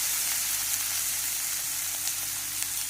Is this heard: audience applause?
no